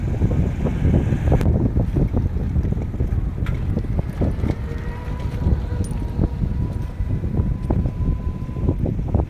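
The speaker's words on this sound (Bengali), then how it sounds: "নদীর পার আসার পরে এমন ঠান্ডা বাতাস আসলে বলার মতো না" Cool wind blowing steadily across a riverbank, a continuous gusty rumble buffeting the microphone for the whole stretch, with no voices.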